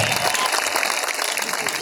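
Crowd applause at a Shri Ram Janmotsav welcome ceremony, a brief burst of steady clapping from a gathered audience, loud and continuous throughout.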